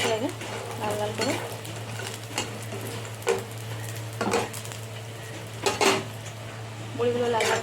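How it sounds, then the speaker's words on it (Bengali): Store-bought lentil dumplings (bori) fry in hot oil in a wok under a steady sizzle. Repeated clanks and scrapes of metal utensils against the pan rise clearly above the frying. "কড়াই তেল দিয়েছি, তেল গরম হয়ে গেছে। প্রথমে আমি বড়িটা ভেজে নেব।"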